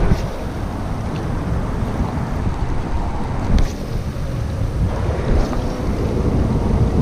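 Strong wind buffets the microphone by the water in Florida, a continuous roaring rush with gusts rising and falling, and a highway faintly in the background.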